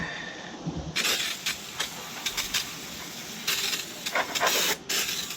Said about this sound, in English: spray it off real fast and clean it